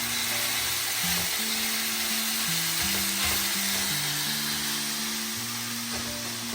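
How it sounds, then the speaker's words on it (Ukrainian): Broccoli and chicken lightly frying together in a pan, a steady soft sizzle that holds for the whole stretch beneath quiet background music. "Це Брокколі легенько підсмажилося"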